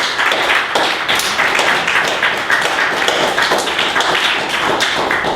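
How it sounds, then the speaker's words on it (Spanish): A church congregation claps loudly and steadily for several seconds. The dense, continuous patter of many hands fills the room without a break. "Den un fuerte aplauso al Rey de Reyes."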